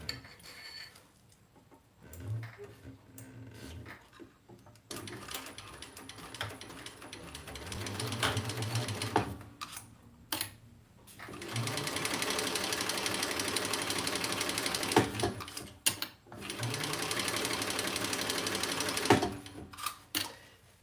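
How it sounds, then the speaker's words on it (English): A sewing machine stitches the seam of a Mysa crossbody bag, running in close, steady bursts of rapid mechanical clatter separated by short pauses, with no talk. "let's sew this together"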